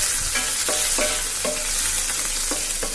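Crushed ginger and garlic stirred in hot coconut oil give a constant close crackling sizzle, with a spoon scraping the pan in a loose rhythm about every half second, and no voices.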